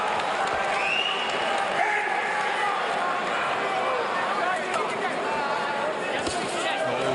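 A boxing crowd at the Klitschko v Chisora heavyweight fight roars steadily as Chisora is hit by two big shots, a continuous loud arena swell with commentators talking over it.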